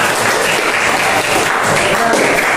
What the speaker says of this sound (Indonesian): Tepuk tangan dong buat Vanessa sekali.